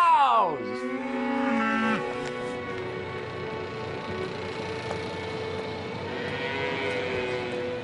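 Cows lowing on a farm spread across roughly 150 acres on a ridge above Seneca Lake, one long moo opening the clip over steady rural background, with no other sound standing out afterward.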